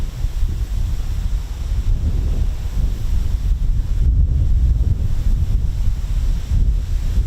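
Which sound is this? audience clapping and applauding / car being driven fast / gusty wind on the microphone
gusty wind on the microphone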